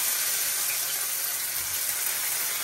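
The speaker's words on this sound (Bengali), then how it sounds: "এই যে আমি এখন এই যে বড়াটি ভেজে নিতেছি" Rice flour fritters (bora) fry in hot oil with a continuous, even hiss and fine crackle, close by and unchanging across the moment.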